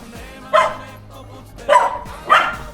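A dog barks three times at a gap of roughly a second between barks, close and loud, outdoors in an old fortress town in Montenegro, over quiet background hum.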